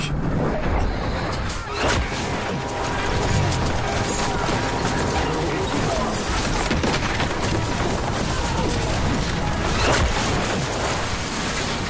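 A ship strikes a reef at night, rendered as a dense, loud roar of crashing water and grinding, creaking structure that continues without a break.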